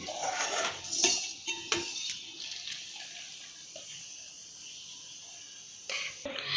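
Boiled rice for biryani is strained in a home kitchen, with water splashing and draining alongside clanks of a metal pot and utensils, loudest at the start, then a softer trickle.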